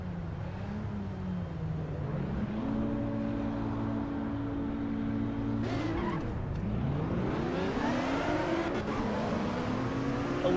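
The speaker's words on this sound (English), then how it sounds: "A little bit too much acceleration, and I got some wheel spin" A race car in Assetto Corsa EVO, driven at night, revs hard with its tires spinning, the engine pitch climbing and wavering through a loud sustained whine with a brief scrabbling burst partway through.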